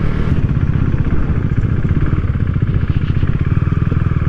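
A freshly washed motorcycle's engine runs close by with a loud, steady, throbbing rumble and even rapid pulses throughout, on a cold day.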